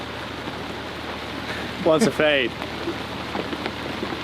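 Rain falls outdoors as a soft, steady hiss, with a voice speaking briefly in the middle over it.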